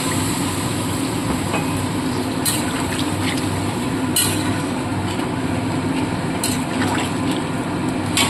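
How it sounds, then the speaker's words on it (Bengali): Water is poured into a spiced vegetarian curry of taro stems cooking in a pan, a steady rushing, bubbling wash that holds at an even level throughout, with a few sharp clinks over it. "এবার আমি দিয়ে দেবো পরিমাণ মতো জল।"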